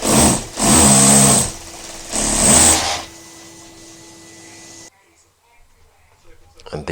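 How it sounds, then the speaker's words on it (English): Two loud bursts of a power drill boring holes through a wall for central heating radiator pipes, each whining run lasting about a second, followed by a quieter drone and then near silence. "I'm just going to drill a couple of holes through, then I'm going to feed the pipes through."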